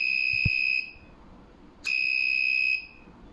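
A buzzer on an Arduino flame sensor module sounds twice: two loud, steady, high-pitched electronic tones, each just under a second long, separated by a short pause and a faint click.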